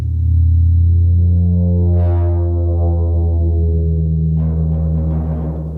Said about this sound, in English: or like with rubber balls and creating sounds like this.